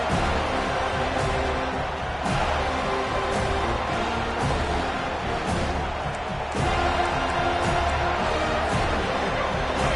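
Football stadium crowd roars behind the defense on a decisive fourth down, a dense, steady wash of cheering and shouting that surges at moments and holds throughout.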